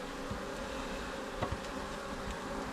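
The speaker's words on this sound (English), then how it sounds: "A nice full box of bees by there." A low, steady insect drone of many honeybees humming together in a full hive box in February, close by, with a few faint knocks and clicks over the continuous buzz.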